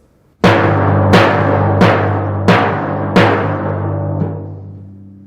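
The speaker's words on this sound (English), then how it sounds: "You can hear how even the pitch and the tone distort when I overplay it." Timpani struck too hard in an overplayed manner, each blow distorting the pitch and tone; five loud, booming strokes at a steady, moderate pace with a long ringing sustain and a softer sixth hit, heard alone and close.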